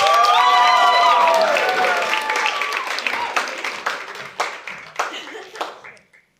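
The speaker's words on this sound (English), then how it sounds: "Give them a round of applause." Applause from an audience welcoming student performers at a comedy showcase, starting as a dense wash mixed with cheering and voices, then thinning into scattered individual claps that fade out.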